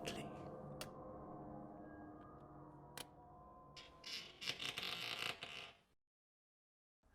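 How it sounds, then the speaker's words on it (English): A door latch clicks sharply, then a wooden door creaks slowly open in a drawn-out, gentle groan, near and quiet before falling to silence. "I turned the latch of his door and opened it, oh so gently."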